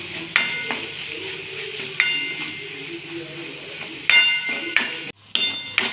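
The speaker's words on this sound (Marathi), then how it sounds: "आता ही पेस्ट पण छान अशी परतून घ्यायची आहे ह्याच्यासोबतच आपल्याला दोन मिनटं परतून घ्यायची आहे" Ginger garlic paste and onions sauté in a pan for a soybean curry, a steady close sizzle broken by four sharp metallic clinks of a spoon against the pan, with a brief dropout near the end.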